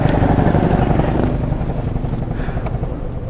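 A Yamaha Mio Soulty scooter engine runs loud and close, a rough steady drone that eases slightly after the first second with no talking.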